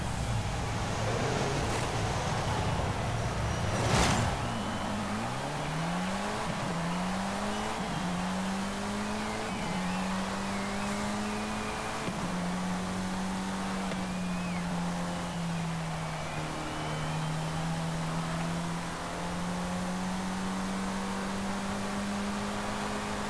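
A 2019 Elemental RP1 sports car in Forza Horizon 5 starts up and revs, then accelerates steadily through several gear changes, its engine note climbing and dropping with each shift before holding a sustained drone.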